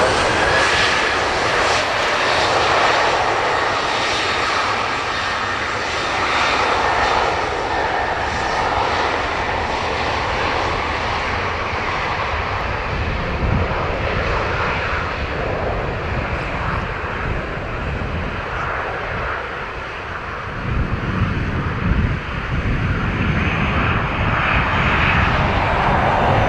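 A Ryanair Boeing 737-800 jet airliner at Dublin Airport roars steadily on its landing approach for the right runway, loud and close, with broadband engine noise that holds throughout and swells slightly near the end.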